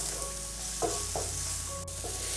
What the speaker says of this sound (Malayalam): നന്നായിട്ട് ഈ മസാലയുടെ ആ ഒരു പച്ച ടേസ്റ്റ് മാത്രം ഒന്ന് മാറി കിട്ടിയാൽ മതിയാവും.